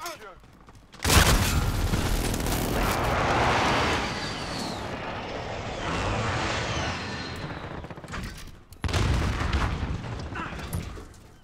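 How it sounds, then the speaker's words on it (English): Airstrike blasts and gunfire in Modern Warfare during a mosh pit match, heavy booming explosions and rattling shots filling the mix for several seconds, then fresh loud bursts near the end. "Be advised, friendly position airstrike inbound"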